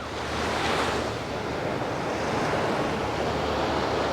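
Sea waves washing onto the beach at Porto Cristo, Mallorca, a continuous broadband surf roar with soft swells and some wind buffeting, no voices.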